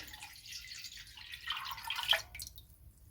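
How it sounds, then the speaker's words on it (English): Water poured into a soup pot of Italian sausage, tomato and pesto soup on medium-high heat, a fairly quiet splashing and trickling pour that swells briefly near the end before tapering off. "I've already added 4 cups of water. I'm going to go ahead and add the other 4."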